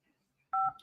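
Two-tone telephone keypad dialing beep, a single short clear tone pair sounding alone after near silence, close and fairly loud.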